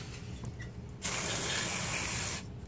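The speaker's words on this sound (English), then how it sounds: "all we're gonna do is pretty much just brake clean all this stuff out of here" Brake cleaner sprayed from an aerosol can onto a 2000 7.3 diesel engine to flush out an oil leak area, a steady loud hiss lasting about a second and a half close to the mic.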